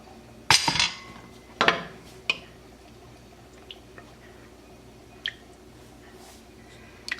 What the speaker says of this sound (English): And now I'll add in my potatoes.